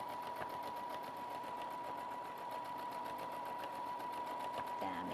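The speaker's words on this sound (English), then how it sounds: "just sew the second line of stitching down" A sewing machine runs steadily, stitching a second line of stitching, its fast even needle rhythm close and continuous with a high whirring tone throughout.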